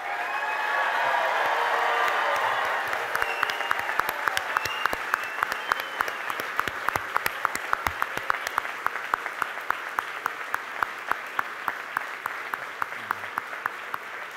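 A large commencement audience applauds the Penn State class of 2018 graduates, sustained dense clapping that gradually thins into sharper, scattered individual claps.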